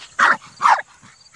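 Two short, sharp barks from a Jack Russell terrier nearby, loud and quick in succession, with a goat present.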